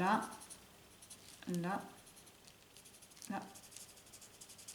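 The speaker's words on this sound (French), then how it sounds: "je viens colorier là" Soft, dry scratching of a pen or marker colouring ink onto paper in a stamping and stencil craft session, short strokes in a few bursts, quiet and close, with a voice speaking at times.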